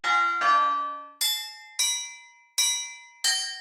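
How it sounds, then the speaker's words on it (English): Sonatina chimes from a free plugin ring out as six separate bell-like glassy strikes, the first two lower and the rest higher, each decaying cleanly in a slow melodic pattern, with nothing else audible. "I'm doing the Sonatina chimes and the chimes sub list"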